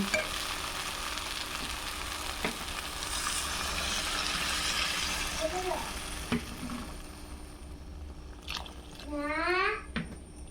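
Frying ghugni sizzles and crackles steadily in a pan, then water is poured in, the hiss dropping away into quieter bubbling, with a brief voice near the end.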